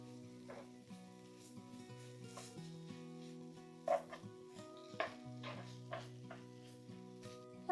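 Samosa filling being stirred and mixed in a hot pan with ground coriander and spices, a soft sizzle under quiet scraping and a few faint clinks, fairly low in level.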